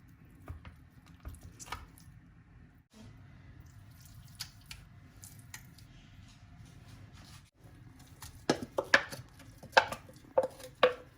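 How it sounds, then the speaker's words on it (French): Fresh tomatoes are sliced with a knife on a kitchen board while a Moroccan harira soup is prepared, giving a run of crisp, close, uneven chops that grows denser toward the end over a faint hum from the kitchen. "Je vais couper mes 4 tomates"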